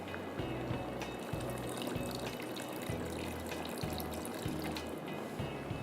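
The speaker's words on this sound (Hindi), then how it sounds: "आधा कप डाला है, आधा कप पानी डाल के इसको हम पकने के लिए छोड़ेंगे।" Half a cup of water is poured from a tap or jug into a kadhai of marinated chicken, giving a steady close splashing stream with a low bubbling rhythm throughout.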